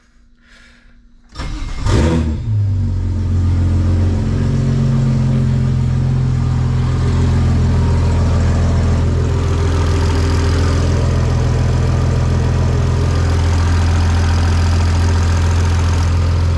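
A BMW 335i's N54 engine, converted to a single turbo with an open dump, cranks and catches after a brief quiet moment, then settles into a loud, steady, rumbling idle with a deep throaty tone that continues throughout.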